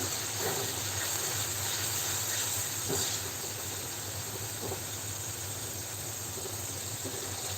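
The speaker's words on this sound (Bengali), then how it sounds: "মশলাটা কষানো প্রায় শেষ, যেহেতু উপরে তেল উঠে আসছে" Spice paste frying in oil, a continuous dense sizzling hiss that holds steady throughout, close and even, with faint clinks and no talk.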